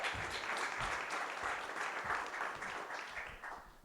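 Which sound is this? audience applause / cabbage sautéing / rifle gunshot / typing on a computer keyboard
audience applause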